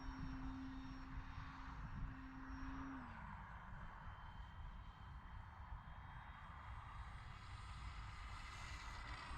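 An E-flite Valiant radio-controlled model plane flies at sunset, its electric motor giving a steady, fairly faint whine that drops in pitch as the throttle is eased back, over a constant hiss of wind and background noise.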